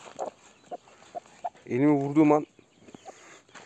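An angry Aseel hen clucks in a coop, a sharp burst of loud harmonic squawking in the middle framed by short scattered clucks, with a person talking over it nearby.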